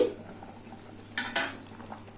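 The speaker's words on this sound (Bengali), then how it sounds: "চার মিনিট হয়ে গেছে এবার ঢাকাটা খুলে দিচ্ছি" A metal lid comes off a pot of light, spice-free chicken curry on a medium gas flame, giving a couple of brief metallic clinks and a soft clatter against a quiet kitchen background.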